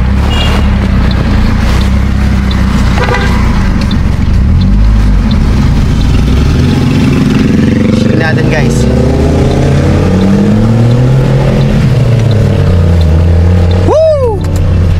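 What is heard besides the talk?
car revving with Greddy chambered muffler exhaust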